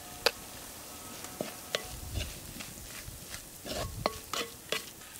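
A spoon stirs turmeric into a softly sizzling pan while cooking a dhaba-style cashew paneer masala, with light scraping and tapping strikes against the metal at irregular intervals.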